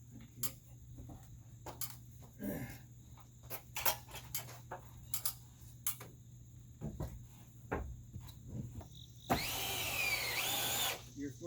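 A cordless power drill drives screws into lumber while a lean-to alcove for tractor storage is framed, with short intermittent whirs among knocks and handling clatter, then one longer sustained drive near the end; people talk nearby.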